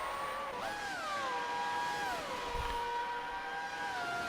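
Classic 1996 Williams Formula One cars in a racing video game around Melbourne give a steady, high engine whine that shifts pitch in smooth steps, as if through gear changes, continuous and without talk.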